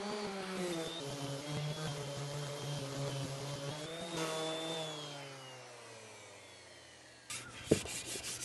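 A power saw whines steadily through black walnut table legs, its pitch sagging as the blade bites, then stops; a few sharp knocks and clatter follow at the end.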